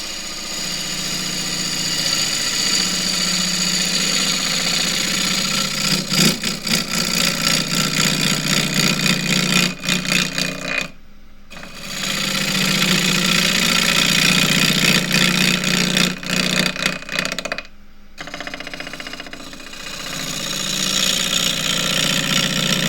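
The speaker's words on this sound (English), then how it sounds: "I'm going to go in with the deep fluted bowl gouge now." A wood lathe spins a rectangular bowl while a 1/2 inch deep fluted bowl gouge with a steep asymmetric grind cuts it, giving a continuous scraping, humming drone that drops out twice for short pauses.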